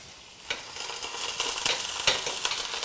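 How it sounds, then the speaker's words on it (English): Drained pasta sizzles and crackles steadily in hot oil in a pan, with occasional stirring clicks from a fork, close and fairly loud, no voices. "And it will sizzle."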